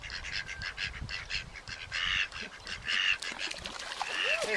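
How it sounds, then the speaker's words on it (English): Ducks at a pond being fed bread give repeated quacks and calls in an irregular rhythm, moderately close, over faint outdoor background. "Back to the duck pond, this time with some bread."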